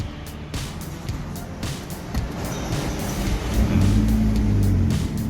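An Audi TT fitted with an aftermarket keyless push-start system fires up. Steady background noise gives way to a low engine rumble that swells and settles into a continuous idle hum.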